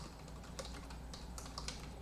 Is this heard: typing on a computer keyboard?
yes